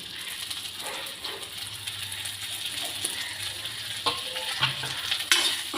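Damp, freshly washed Gobindobhog rice being fried in ghee for payesh, a soft steady crackle with scraping and knocking from a spoon in the pan, growing slightly louder toward the end.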